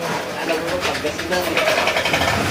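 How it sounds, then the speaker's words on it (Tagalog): A smoky, noisy Honda Click 125 scooter engine runs steadily, a rough mechanical drone filling the whole clip with no pauses. "tapos mausok at maingay yung makina"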